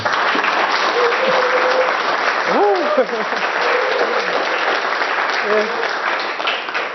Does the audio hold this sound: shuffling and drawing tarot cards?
no